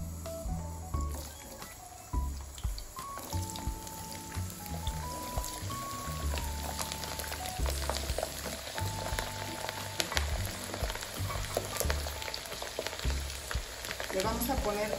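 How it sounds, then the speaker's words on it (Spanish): Garlic frying in very hot oil while salsa macha is made, giving a steady, dense sizzle and crackle that stays loud and continuous throughout, with faint tonal sounds in the background. "vamos a poner a dorar los ajos. Que el aceite está bien caliente"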